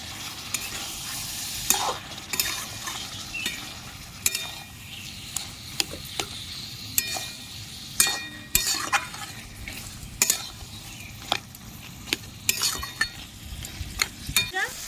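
Taro greens and prawns stirred and fried in a pan, with a continuous sizzle and repeated scraping clicks of a spatula against the pan throughout.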